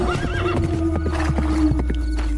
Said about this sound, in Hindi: घोड़े पर सवार होकर ज्ञानचंद दूसरे राज्य की सीमा में चला गया